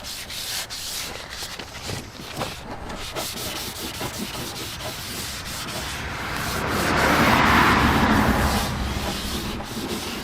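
Motorcycle paint is sanded by hand with 600-grit sandpaper: close, rhythmic rubbing strokes that sweep back and forth, building into a broader, louder scrubbing pass near the end, with no voice.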